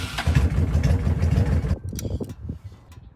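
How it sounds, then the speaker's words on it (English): A Honda Shadow 750 motorcycle engine runs close by with a deep, rapid, even idle pulse that cuts off after under two seconds, leaving a few clicks and rattles. "start the engine and let it idle for a bit."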